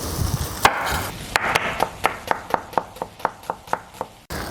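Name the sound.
chopping onion for fried fish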